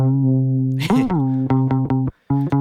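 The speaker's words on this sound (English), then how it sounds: "The guitar alone sounds like this." An unprocessed guitar part, built from single notes recorded one at a time and spliced together: a held tone, a warbling bend, then short choppy repeated plucks with a brief gap of silence near the end.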